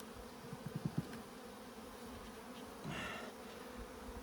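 Honey bees swarm over an opened hive in an Alaska apiary, a steady, faint, soft buzzing hum with a few light knocks and shifting drones passing nearby.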